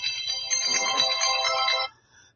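A phone ringtone plays a loud, close electronic melody for about two seconds, then cuts off, leaving faint low background noise.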